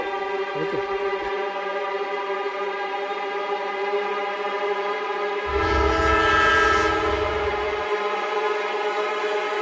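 An approaching train sounding a long, sustained horn for a dramatic film soundtrack, the loud blast held throughout while a deep rumble of the train swells briefly in the middle.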